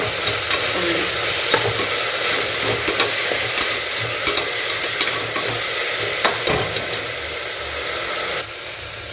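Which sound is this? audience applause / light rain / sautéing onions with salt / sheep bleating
sautéing onions with salt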